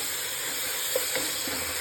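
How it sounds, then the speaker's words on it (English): Onions frying in a pan for Kerala-style meat biryani, a soft steady sizzle with a few faint stirring clinks, quiet and close with no talking. "I'm frying the onions to a stage where it turns not very reddish brown"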